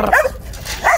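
Guard dog at a livestock market giving a few barks and yelps, one burst near the start and another near the end, fairly close and clear with no talk over it.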